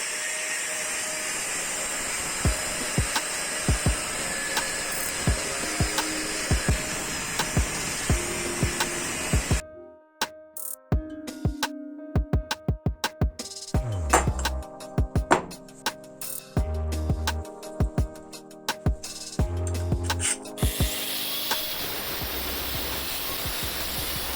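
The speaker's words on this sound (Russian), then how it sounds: "Первым делом отрежем два куска по 80 миллиметров." A power saw cuts two 80 mm pieces, whining loudly and steadily at first. Then comes a stretch of irregular clattering knocks and clicks, and finally the high cutting whine returns. No one speaks.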